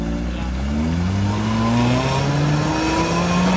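An off-road car engine revs loudly and close on rough Krasnodar terrain of mud, rock and clay, its pitch rising steadily as it climbs under load.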